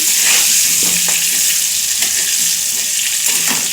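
Potato pieces coated in turmeric sizzle loudly in a frying pan while a utensil scrapes and stirs them in short, repeated strokes close to the mic.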